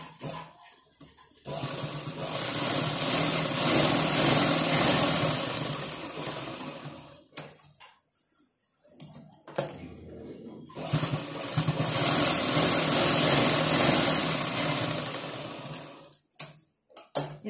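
A sewing machine stitches a blouse in two long close bursts of rapid whirring, separated by pauses with small clicks and handling noises.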